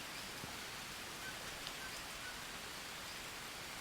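Steady soft rain hiss from the survival video game Green Hell, faint and continuous with no voices over it.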